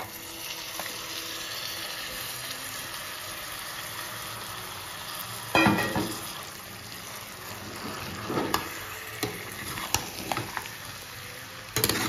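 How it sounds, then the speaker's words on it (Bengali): Mutton pieces tipped onto fried onions in a pan, a soft continuous sizzle broken by a sharp burst of hissing and clatter midway, then scattered stirring clinks, quiet and close without voices. "এবার দিয়ে দিচ্ছি আমাদের মাটন।"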